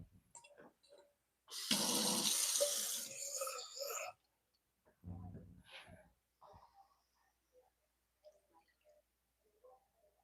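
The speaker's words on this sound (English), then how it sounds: "I'm gonna put some water in here" Water pours into a pot of lean meat cooking on the stove for a few seconds in a steady rushing splash, followed by quieter clinks and a person talking.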